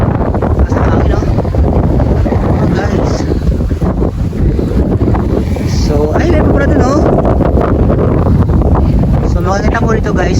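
Strong wind buffets the microphone at a hilltop viewpoint near KM 90 on the Infanta, Quezon road, a steady loud roar throughout with someone talking over it.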